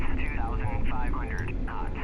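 Jet aircraft taking off in the DCS combat flight simulator, its engine roar a steady loud broadband rumble and whine beneath continuous talking.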